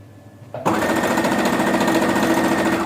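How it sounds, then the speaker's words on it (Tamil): A sewing machine starts up and runs at a steady fast clatter, close and loud, stitching fabric for a bow scrunchie. "நான் இப்போ கொஞ்சமாக தான் ஸ்டிச்சஸ் போட்டு வந்துட்டுருக்கேன்."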